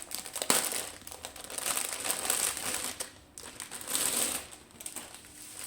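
Diamond art kit packaging crinkles and rustles as it is unwrapped by hand, with irregular close plastic crumpling bursts and short pauses, no voices.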